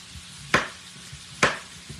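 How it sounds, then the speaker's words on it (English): A knife chops the end off a zucchini on a cutting board, two sharp, close cuts spaced about a second apart with quiet kitchen sounds between. "Going to chop that end off."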